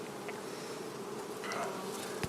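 Honeybees hum on a hive frame in a soft, continuous buzz close by, a faint steady drone with individual bees briefly rising louder.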